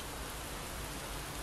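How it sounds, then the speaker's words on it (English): Steady rain pours down in a continuous dense hiss with no pauses, filling the whole stretch with no voices over it. "It's raining, you guys."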